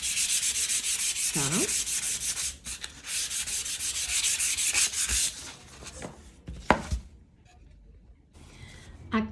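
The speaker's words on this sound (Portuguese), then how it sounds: "Então, eu vou lixar e vou passar mais uma camada" Sandpaper rubs back and forth over painted MDF board in steady, raspy strokes close to the ear, pausing briefly and then fading into sparse scrapes and handling sounds, with a few spoken words.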